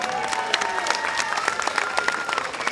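Steady, close applause from a spectator crowd at a Steenbergcross cyclocross podium ceremony, dense clapping throughout with a faint voice underneath.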